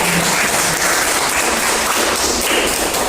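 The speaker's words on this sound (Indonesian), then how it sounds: "kita beri tepuk tangan untuk" A class of students claps for a group presenting their conclusions in a school lesson, producing a dense, steady, fairly loud wash of applause that holds throughout with no pause.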